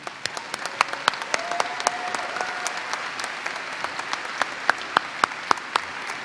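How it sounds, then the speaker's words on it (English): Applause from a graduation convocation audience greeting the first half of the alphabet of graduates, a steady moderate patter of many hands with a few sharper nearby claps standing out, no voices over it. "we would all like to offer our applause to the first half of the alphabet"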